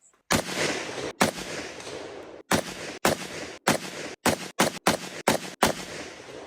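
Springfield SOCOM-16 rifle firing offhand with iron sights at a steel target about 180 yards away, about ten sharp loud shots in an irregular rhythm, some closely spaced, with no talk.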